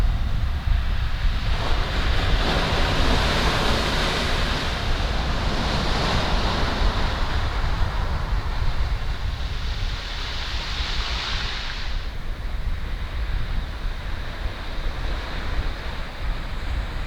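Ocean surf rolls in continuously at the water's edge beside an overland Jeep camp, a loud, steady wash of breaking waves mixed with gusty wind buffeting the microphone.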